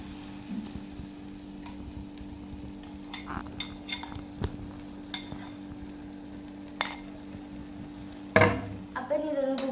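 Beaten egg going into a hot pan, with soft sizzling under scattered clinks and scrapes of stirring, then a sudden louder hiss near the end as the egg hits the pan, close by.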